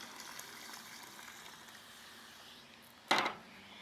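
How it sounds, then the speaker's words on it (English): About a quart of toasted shrimp shell stock is poured into a pot for Cajun shrimp chowder. A short, bright splash and gush stands out near the end, after a quiet kitchen background. "And then we're gonna take our toasted shrimp shell stock, add about a quart of that."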